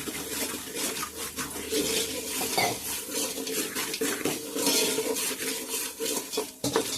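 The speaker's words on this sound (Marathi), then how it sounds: "चवीनुसार मीठ, आणि हा सगळा ढवळून घ्यायचा" A spoon scrapes and clinks against a cooking pot as crab curry ingredients with turmeric and salt are stirred, a steady metallic scraping with light watery sloshing, fairly quiet and without talk.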